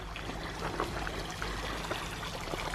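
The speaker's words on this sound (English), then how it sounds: "I hear water as well. There must be a water feature here." Water from a garden water feature in a fernery trickles steadily and faintly, a continuous low splashing flow with no voices.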